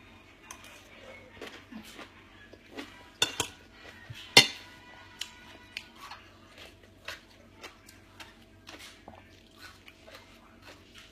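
Green papaya salad is pounded in a mortar, giving irregular, fairly quiet knocks and wet squishes with a few sharper strikes midway. Nobody speaks over it.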